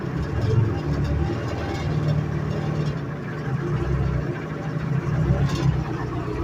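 A Detroit Diesel 453 engine idles slowly and unevenly, a steady low rumble with a loose rhythmic chug that holds at moderate loudness throughout, with no throttle applied.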